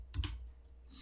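Computer mouse clicks, two quick close clicks in succession, then a short faint hiss, quiet and isolated without talking.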